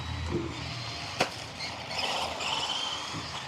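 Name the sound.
WLToys 184011 or BlueJay Motivator RC car driving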